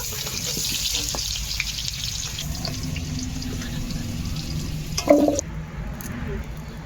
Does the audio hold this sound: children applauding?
no